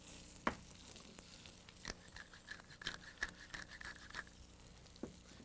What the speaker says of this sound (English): my tuna is searing up beautifully